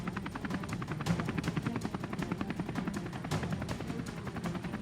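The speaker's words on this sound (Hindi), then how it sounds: "वायुसेना ने आसमान में अपने सारंग हेलीकॉप्टर का प्रदर्शन भी किया" Four Sarang helicopters flying an air display at the Aero India air show, a rapid rhythmic rotor chop pulsing steadily at moderate distance under crowd ambience.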